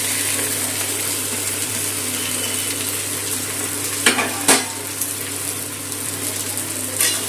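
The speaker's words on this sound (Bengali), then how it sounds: "কচুরলতিটা মশলাতে কষিয়ে নেব।" Taro stolons fry in spice paste with a continuous sizzle and crackle in the pan. A few sharp scraping stirs stand out near the middle and end, while a low steady hum runs underneath.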